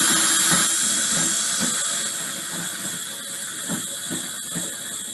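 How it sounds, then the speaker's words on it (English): A food processor blends guacamole with a continuous loud whirring motor drone, steady and close, easing slightly in intensity partway through, with no talk. "if you're using a food processor, just do what I did"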